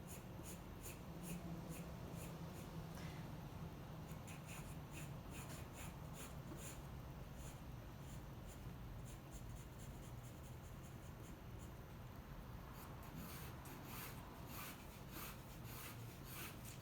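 A 2H pencil hatches lines on paper, a faint, dry, continuous scratching of repeated strokes at close range, steady throughout with no talking.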